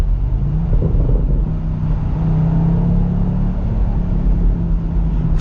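Exhaust of a 2023 BMW M850i Convertible burbles and rumbles in a steady low drone at low revs, heard from inside the car with no talking.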